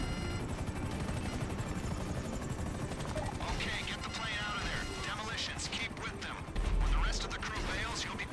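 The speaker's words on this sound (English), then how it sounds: "Make sure you're covering all the helicopters, you're killing them all" Helicopters in the video game GTA Online beat steadily during a prison break heist, a dense rotor chop mixed with game effects and occasional bursts, while a voice talks over the action.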